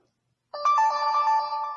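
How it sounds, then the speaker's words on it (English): A phone ringtone starts abruptly after a moment of silence. It is a bright, sustained electronic melody, close and clear, with no talking. "I don't know what all these notifications are."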